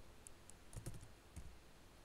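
Quiet keystrokes on a computer keyboard as a name is typed, a few isolated taps and then a quick cluster of presses, faint and close against a low background hiss.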